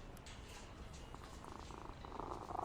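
A cat purrs in the Sherlock Holmes versus Jack the Ripper video game, a soft, steady, continuous rumble that stays faint throughout with no voices over it.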